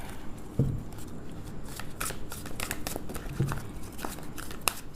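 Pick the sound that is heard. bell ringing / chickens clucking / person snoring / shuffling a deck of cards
shuffling a deck of cards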